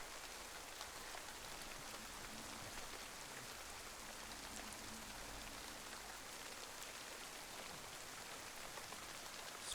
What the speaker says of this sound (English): Quite relaxing actually, the sound of the water, the rain.